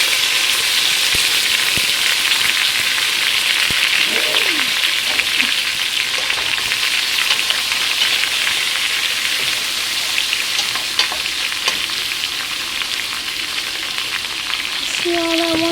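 Onion and frozen sweet peppers fry with chicharrón in a hot pan for Panamanian tamales, a loud, steady, dense sizzle that holds throughout with occasional faint clinks.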